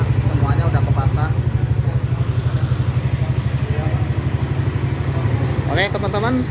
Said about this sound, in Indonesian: Perhatikan mesinnya nyala ya.